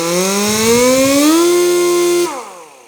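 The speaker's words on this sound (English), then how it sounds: "we're going to take and spin it in the pail." A wet polishing pad on a polisher spins inside a pail, giving a loud, steady, high-pitched whirring whine that rises slightly, holds, then winds down near the end.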